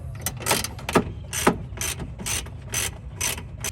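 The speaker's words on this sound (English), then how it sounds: "Next thing to do is remove 1 and 2 screws. This is a 10mm socket." Close ratchet clicking from a 10mm socket backing out grille screws on a 2016–2021 third-generation Toyota Tacoma during an aftermarket TRD Pro grille swap. Roughly eight short, evenly spaced bursts of ratcheting follow one another.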